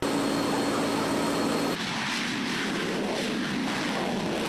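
A Royal Malaysian Air Force F/A-18D Hornet fighter jet roars steadily overhead, a continuous loud broadband engine noise that shifts tone partway through, with no voices.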